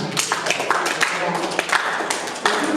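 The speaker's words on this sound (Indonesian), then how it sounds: "tepuk tangan untuk Ringga" Brief classroom applause for a student, a scattered burst of hand clapping from pupils, fairly close and steady, with voices talking over it.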